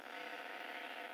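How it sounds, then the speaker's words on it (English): Data-under-voice telemetry from an AMSAT CubeSat simulator comes through a nearby radio as a faint, steady hiss of broadband noise with no breaks. "The sound you hear is the data under voice telemetry that's coming from the CubeSat"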